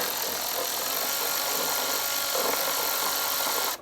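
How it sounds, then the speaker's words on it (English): A Milwaukee 1/4-inch ratchet running steadily as carburetor parts come off a John Deere D105 lawn tractor, a loud continuous whirring buzz held close for nearly four seconds before cutting off abruptly. "Little Milwaukee 1/4-inch ratchet, just make that job just really easy."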